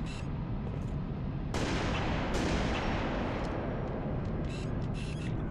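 Heavy sniper rifle shots boom in an online multiplayer Halo Reach match, a sharp loud crack followed by a second blast with long rumbling tails, no talking.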